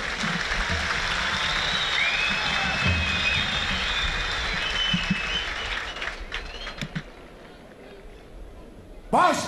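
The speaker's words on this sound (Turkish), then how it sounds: "Bu anlamda baş pehlivanlarımıza şu kuvvetli bir alkış" A stadium crowd at the Kırkpınar oil wrestling championship final in Edirne claps for the head wrestlers, a broad, sustained roar of applause with a voice talking over it, fading toward the end before a brief loud burst.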